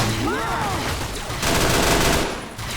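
Gunfire in the video game Fallout: New Vegas, a dense burst of rapid shots mixed with loud, sustained game combat noise, while a voice briefly cries out at the start.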